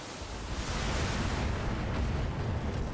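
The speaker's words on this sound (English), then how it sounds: "There's the ammo explosion we were hoping for." A mech's ammunition explodes in the BattleTech video game as a loud, dense roar of broadband blast noise that stays sustained for a few seconds.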